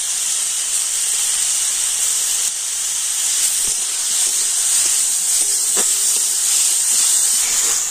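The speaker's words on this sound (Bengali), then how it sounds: "তেলের উপরে টমেটোটা কিন্তু আমি ভাজা ভাজা করে নিয়েছি" Tomatoes frying in oil while momo sauce is prepared give a steady, loud hiss of sizzling throughout, with a few faint clinks near the end and no talk.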